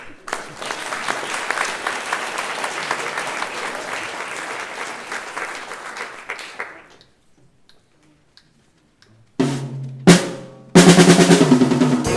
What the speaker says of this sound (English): should we give a round of applause to get warmed up?